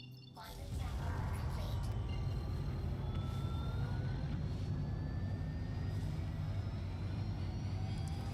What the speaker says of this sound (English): This thing sounds like a jet engine taking off.